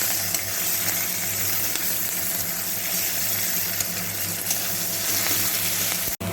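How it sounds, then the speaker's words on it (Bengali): Steady, dense sizzling of chopped onions frying in a hot pan for fish-head muri ghonto, continuous and close, with a brief clatter near the end. "পেঁয়াজগুলোকে ভালো করে ভেজে নেবো"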